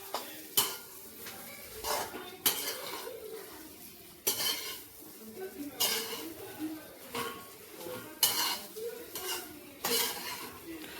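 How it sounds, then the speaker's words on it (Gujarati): A spoon repeatedly scrapes and clanks against a pan while okra (bhindi) sabzi is stirred on a tawa, sharp metallic knocks recurring every second or two over a faint sizzle. "હવે ભીંડા નાખી સરસ મજાના શાકને મસ્ત હલાવી લઈશું."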